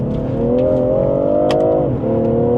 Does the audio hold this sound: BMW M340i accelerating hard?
yes